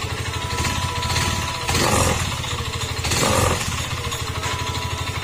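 A Yamaha Mio M3 scooter engine with a bad connecting rod runs close and loud, a steady dense mechanical rattle with rapid rhythmic knocking that swells twice into harsher bursts.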